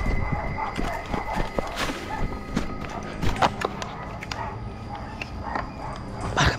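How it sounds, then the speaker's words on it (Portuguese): At night on a farm near the woods, a dog barks sharply and whimpers in excited bursts, mixed with rustling, footsteps and some hoof-like knocks in the background. "O cachorro tá tudo louco."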